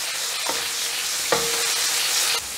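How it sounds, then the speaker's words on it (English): Ground pork frying with golden minced garlic in a pan, a loud, continuous sizzle with a couple of louder scraping stirs close by. "The garlic is getting golden, so I'm adding the pork."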